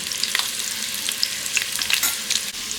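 Cumin seeds and asafoetida sizzling in hot oil for vegetable khichdi, a bright continuous crackle with scattered pops and spits, close up with no voices.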